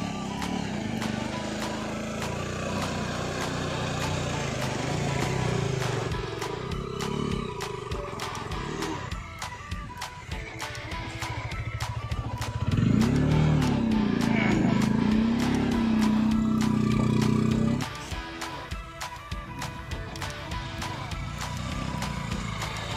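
A motorcycle on a mountain trip from Kali Pokhari to Sandakphu, its engine droning steadily and rising and falling with throttle changes, close and fairly loud, with people talking over it at times.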